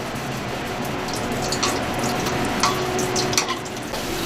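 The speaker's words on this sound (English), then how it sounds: "You fry it on both sides" Sesame-seed-coated mochi frying in a pan gives a steady, close crackling sizzle with faint bubbling pops throughout, and no voices.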